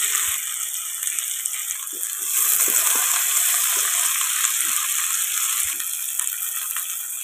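Onions frying in mustard oil over sugar already caramelized red in the pan, a steady close sizzle with faint stirring clinks and rattles, no talking.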